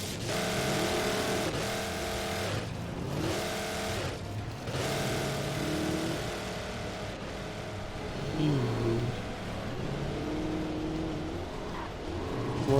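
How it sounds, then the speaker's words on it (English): A car engine revs in the video game Alan Wake, a loud, continuous motor roar that rises and falls through repeated accelerations. The engine dominates throughout, with a brief spoken exclamation over it. "Why does your car sound like that?"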